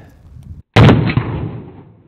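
A single very loud, sharp shot from a .50 AE Desert Eagle pistol fired at an apple, breaking a quiet pause and trailing off into a booming decay.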